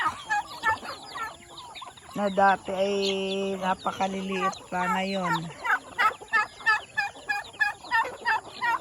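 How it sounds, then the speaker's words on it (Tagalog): Free-range chickens and turkeys on a farm cluck and gobble close by, with repeated sharp clucks and a long warbling gobble in the middle, while a person talks softly over them. "malalaki na po sila ang mga manok"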